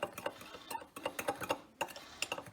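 A spoon clinks quickly and rhythmically against a bowl while sugar and cinnamon are mixed together for a snickerdoodle cheesecake topping, close and soft, with no talking.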